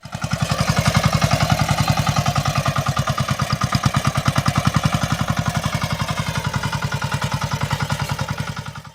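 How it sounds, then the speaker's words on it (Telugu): A bullet tractor, a small farm tractor used for ploughing fields, runs with a loud, steady thumping single-cylinder beat, close and continuous without a break. "ఎన్నో వ్యవసాయ పనుల్లో రైతుకు చేదోడు వాదోడుగా నిలుస్తోంది ఈ బుల్లెట్ ట్రాక్టర్"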